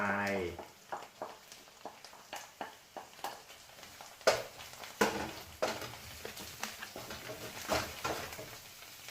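Dried shrimp and shiitake mushrooms stir-frying on high heat, with a steady sizzle broken by repeated scraping and stirring strokes in the pan, heard under a person talking.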